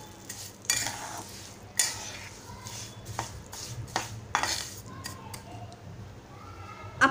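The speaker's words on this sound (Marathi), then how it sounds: "आता परतून घेणार आहोत।" Sheera, a semolina sweet, is stirred and sautéed with sugar in a pan, with scraping strokes of a spoon against metal and a soft sizzle. Several sharper clinks and scrapes punctuate a steady background.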